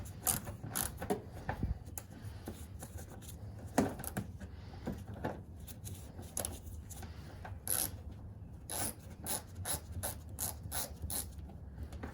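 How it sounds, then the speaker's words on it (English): A ratchet removes 8mm bolts from the front bumper trim of a 2010 second-generation Mazda 3, producing bursts of close, crisp clicking with short pauses between turns and no talk. "Next, we are going to take off the 8mm screws / bolts all along"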